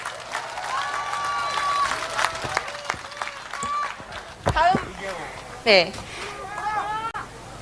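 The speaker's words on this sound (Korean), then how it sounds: "박수 한번 부탁드립니다" Crowd applause and cheering at an outdoor Democratic Party presidential campaign rally in Naju, mixed with shouting voices and talk throughout.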